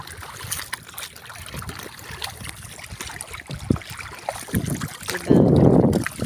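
Sea water laps and sloshes against a boat out on the open ocean, uneven close splashes and wind buffeting, ending in a louder rushing burst, with no talk.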